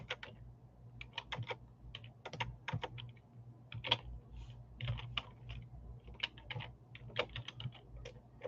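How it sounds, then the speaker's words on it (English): Slow typing on a computer keyboard: steady, unhurried key clicks spaced apart, with a low hum underneath, close and fairly quiet. "I'm sorry for my slow typing."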